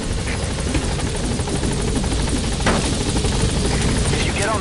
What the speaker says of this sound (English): If you get on that chopper, you'll be aborting the mission.